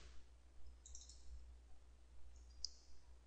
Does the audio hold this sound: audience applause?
no